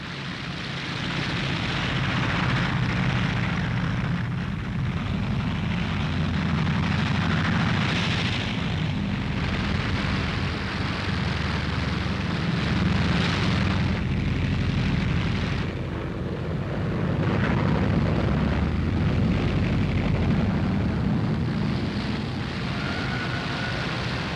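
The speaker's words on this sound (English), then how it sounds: "the aircraft lumber down the runway" World War II military transport aircraft lumbering down a runway for takeoff in the Battle of Crete, a loud, sustained droning engine roar that swells and eases in waves, with no speech.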